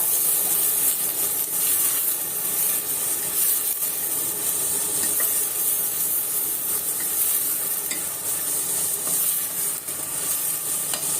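Ingredients sautéing in a pan for a Turkish okra dish make a loud, continuous sizzle with steady stirring scrapes, close up with no talk.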